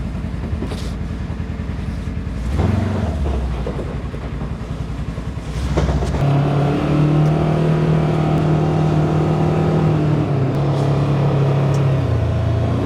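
A Polaris utility vehicle drives in four-wheel drive, its engine steady and close, quieter at first and then picking up to a sustained hum with a faint whine, with no one talking over it.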